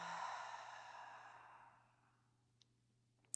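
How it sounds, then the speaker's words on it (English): A deep open-mouth exhale in a prenatal yoga session, one long breathy sigh that fades away over about two seconds, close and alone, followed by quiet. "take a big breath in through the nose and an open mouth exhale"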